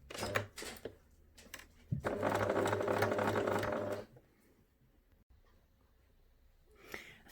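A domestic sewing machine stitching around the ear of a fabric memory bear runs in one steady two-second burst, with brief pauses, needle and foot handling before and after.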